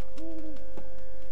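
A bird calls from inside a locked cupboard in a video game, a single clear hooting note with a rising-falling warble, close and alone with no talk over it.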